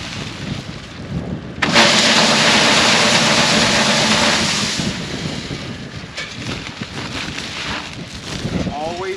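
Strong wind gusting on a farm, buffeting the microphone in loud roaring bursts that swell and fade, with some faint background rumble.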